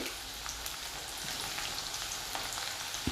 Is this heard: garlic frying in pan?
yes